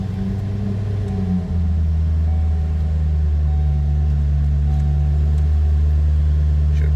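A 2007 Cadillac XLR-V's engine turns over and catches, then settles into a deep, steady idle rumble heard close up with no one talking.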